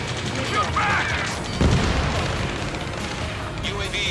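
Battle gunfire in the Ace Combat 7 combat game: bursts of shots and a heavy boom around the middle, set against a dense rumbling backdrop, with radio voices talking over the fighting.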